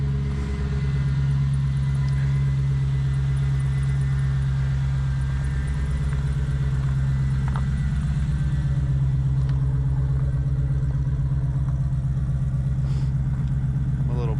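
A Jeep with a swapped 5.3 LS V8, Holley Terminator and Holley Blackheart exhaust and headers idles steadily with a deep, even rumble, a person talking faintly over it.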